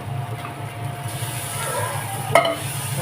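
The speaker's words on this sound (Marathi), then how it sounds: "त्याच्यामध्ये आपण आता हे सगळे मटर टाकायचे" Green peas tipped into hot oil in a pan where fish has been cooking for Marathi dhaba-style matar paneer, giving a steady close sizzle with a brief clatter partway through.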